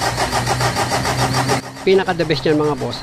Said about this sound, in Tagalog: pwede nang pa-start ulit itong makina